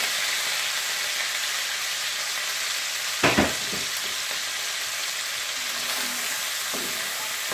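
Onions fry with chicken in a pan for chicken chowmein, making a loud, steady sizzle up close. A single clanking stir knocks through the hiss partway in, and a fainter scrape follows later.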